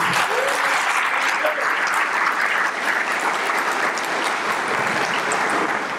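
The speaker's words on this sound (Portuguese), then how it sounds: "pode aplaudir o Senhor" A church congregation applauds steadily in a large room, a dense, continuous wash of many hands clapping at even loudness for the whole stretch, with faint voices mixed in.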